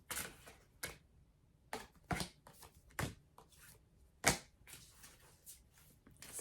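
Quick papery riffles and snaps come in irregular bursts, with short pauses between them, like cards being shuffled close by. No talking.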